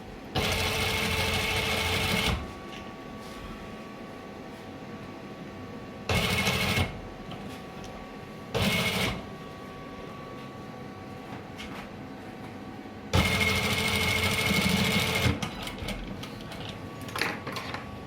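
A sewing machine stitches a sleeve in four separate runs of fast, steady whirring, two long and two short, with quiet room hum and faint handling noises in the gaps.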